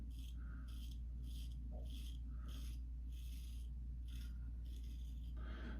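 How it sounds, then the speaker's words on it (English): Gem Micromatic safety razor scraping over one day's stubble, a close series of short, crisp rasping strokes in an uneven rhythm over a low steady hum, no talking. "let's go first pass with the Gem Micromatic, working on 1 day's growth as usual this month"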